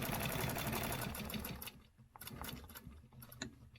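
A sewing machine stitches a stencil design at a 1/4 inch seam line, running steadily at close range, pausing briefly, then resuming in shorter bursts of rapid mechanical whirring and ticking.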